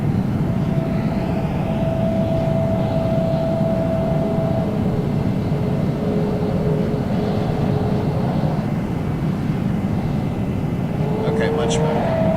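An F-104 jet engine in flight in a video game, a steady loud roar with a sustained whine holding through the whole stretch, as a pilot speaks over it.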